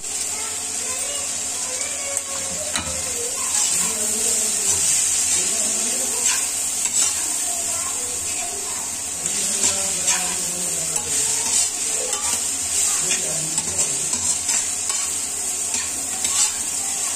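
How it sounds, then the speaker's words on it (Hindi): Shredded cabbage frying in a pan with turmeric, chili and salt, a steady sizzle broken by repeated scraping stirs, continuous and close with no talk. "ये देखिएगा पत्ता गोभी फ्राई हो चुका था, उसके बाद माँ जी ने इसमें डाल दी हल्दी और मिर्च और नमक"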